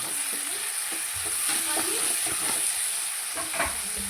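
Sliced bitter gourd fries in a pan with a steady, close sizzle and hiss, while occasional scraping from stirring breaks through.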